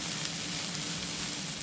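Onion and peppers fry in a pan, giving a continuous close sizzle with steady crackling hiss and no pauses, and no one speaks over it.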